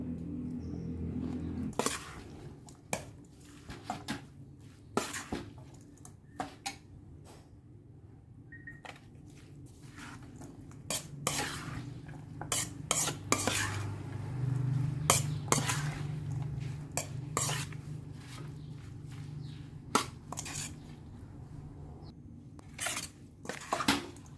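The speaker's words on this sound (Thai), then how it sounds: "อันนี้เรายำใส่ปลากรอบ" Tossing spicy three-flavour Thai mango salad with crispy fish in a bowl: irregular clicks, scrapes and taps of utensils against the bowl, quiet with scattered louder knocks over a low background hum.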